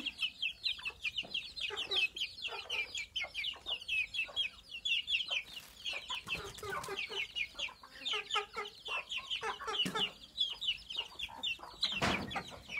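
Farmyard chickens clucking continuously, many overlapping birds with rapid repeated clucks and occasional louder calls, close and busy throughout.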